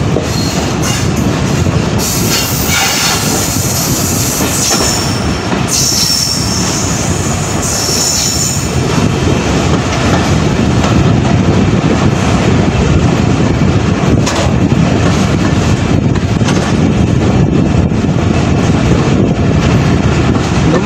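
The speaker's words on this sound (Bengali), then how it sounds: "আমাদের ট্রেন বর্তমান প্রবেশ করতেছে ডোমা রেলওয়ে স্টেশনে" The Titumir Express rolls into Doma railway station in Bangladesh with loud, continuous wheel rumble and clatter, high metallic squeals of braking wheels in the first several seconds, heard from on board without talk.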